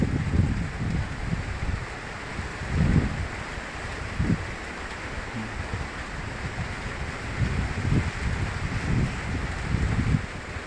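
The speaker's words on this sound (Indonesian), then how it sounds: "Nah ini anginnya." Strong wind blows outdoors after gusts have knocked roof tiles loose, a broad, steady roar with surging low gusts rising and falling over several seconds, close to the microphone, with no voices.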